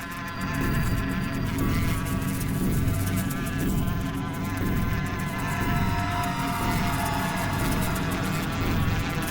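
Dense, continuous buzzing of a swarm of bees around a hive in a forest, a close insect drone with wavering pitch that holds steady throughout.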